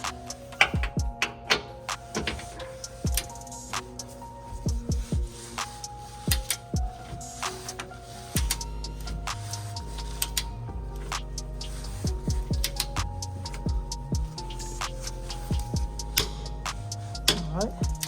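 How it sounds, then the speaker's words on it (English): A 19mm suspension bolt being tightened to 70 foot-pounds with a ratchet or torque wrench on a 2015 Honda Pilot lower control arm, heard as close, rapid metallic clicking in irregular bursts throughout, with no talking. "we're gonna go ahead torque these two here, the 19mm bolt, to 70 foot-pounds"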